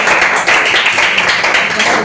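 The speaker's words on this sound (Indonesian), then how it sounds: "silakan kasih tepuk tangan untuk" Clapping at a school teachers' presentation, a loud continuous patter of hands that fills the full two seconds with no break and no clear speech on top.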